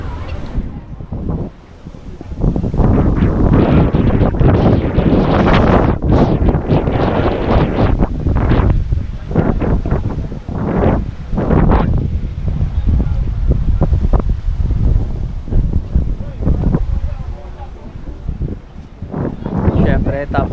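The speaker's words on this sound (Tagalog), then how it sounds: "Napakasarap talaga ng hangin pag nasa bundok ka." Strong mountain wind buffeting the microphone in heavy, gusting rumbles that rise and fall throughout, with a person talking underneath the roar.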